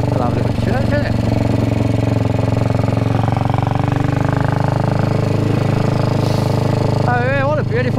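A Royal Enfield 350 Bullet motorcycle, nicknamed the green goblin, thumps along at a steady low engine drone while being ridden on a countryside outing, loud and close, with wind noise and a rider's voice briefly over the engine.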